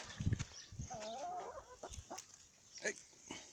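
Chickens clucking close by, a few short bursts and a longer warbling cluck, with rustling and light outdoor noise around them.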